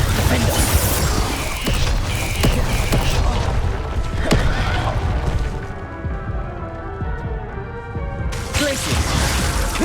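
Spell blasts in the Hogwarts Legacy video game: a rapid run of booming, crashing magical explosions with impacts and shattering debris, loud and close, easing briefly before another burst, with a voice calling out spell names over them.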